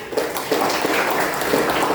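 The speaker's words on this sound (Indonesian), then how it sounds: "tepuk tangan untuk temannya" A classroom of students claps for a classmate during a lesson on local culinary heritage, a dense, steady patter of many hands lasting a couple of seconds, close and moderately loud.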